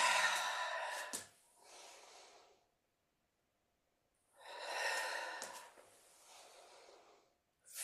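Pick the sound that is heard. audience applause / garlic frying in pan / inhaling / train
inhaling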